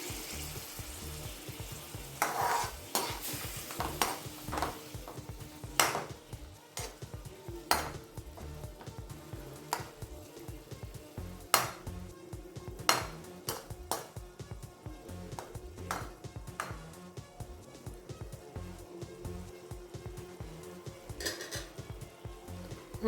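Prawns fry in a pan with a steady sizzle while being stirred, producing repeated sharp scraping clicks of a utensil against the pan throughout, fairly close and moderately loud.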